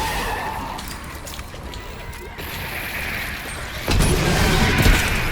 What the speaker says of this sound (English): the sound of the flamethrower sounds awesome